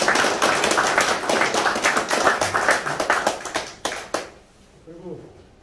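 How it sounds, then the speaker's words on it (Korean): An audience at an election campaign headquarters closing ceremony claps in a burst of dense, close, sharp applause that thins out and stops, leaving a brief voice afterward. "다시 한번 뜨거운 박수"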